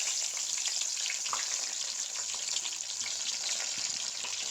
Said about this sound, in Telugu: ఆయిల్లో వేసేసి అది ఫ్రై చేసేసుకోండి